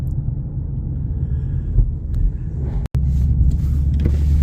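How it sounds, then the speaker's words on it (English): A car's exhaust rumbles low and steady at an outdoor car show meet, cutting out for a brief instant before resuming at the same deep, even drone. "the kid's giving her car a little bit of an exhaust note"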